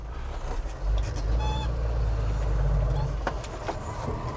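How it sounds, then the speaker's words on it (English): A restored Holden car's engine idles with a low, steady rumble inside the cabin, with someone talking over it and a few brief tones and clicks. "Does that sound like a Holden or what?"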